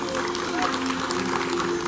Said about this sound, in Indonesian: Kita kasih tepuk tangan dong buat Ruben dong.